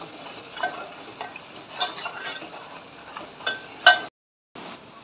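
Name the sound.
stirring spice powders into chicken curry in a pan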